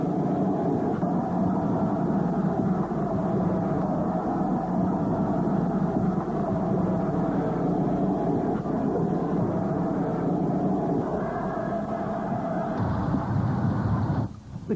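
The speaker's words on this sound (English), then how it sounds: "3851 was a 1938 Collet version of a former Churchwood 280 freight locomotive design." Steam locomotive 3851, a 1938 Collett-built freight engine based on the older Churchward 2-8-0 design, gives a steady, fairly loud rumbling drone throughout, which drops away sharply near the end.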